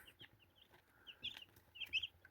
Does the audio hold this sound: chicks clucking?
yes